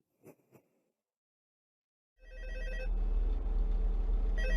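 A telephone ringing in the horror game FNAF Help Wanted: two short rings, then silence, then a loud sustained electronic ring with a deep hum beneath it, alone without talk.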